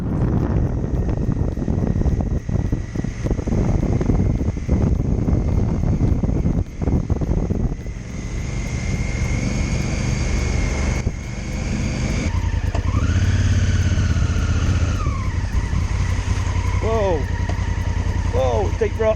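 Honda Africa Twin motorcycle ridden over wet grass on a green lane, a loud engine revving and surging with wheelspin, wind noise throughout and rising revs near the end.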